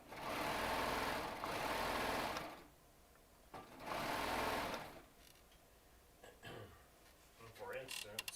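Baby Lock Triumph serger stitching in bursts, two long loud runs of fast whirring needle action separated by pauses, followed by quieter handling clicks and brief starts, close up.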